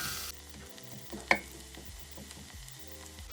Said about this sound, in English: Also just saute this.